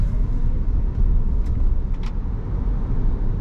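Audi E-Tron S three-motor electric SUV accelerating, heard as steady road and tire rumble with a faint motor whine and a couple of brief high chirps, no talk.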